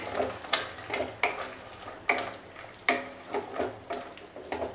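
Raw paneer cubes shaken in a pan for palak paneer, giving about six rhythmic rattling, scraping bursts of food and metal, close and moderately loud with no talk.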